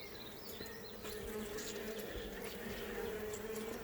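Honeybees buzz around a BetterComb wire-reinforced hive frame, a dense, steady, continuous hum of many insects nearby, with occasional faint handling noises.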